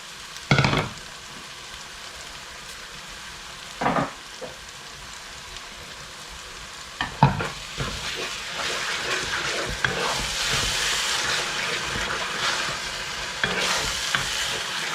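Tomato pulp and herbs are stirred in a pan with a few distinct scraping strokes, then settle into a steady, soft sizzle and bubble as they simmer, with no voices.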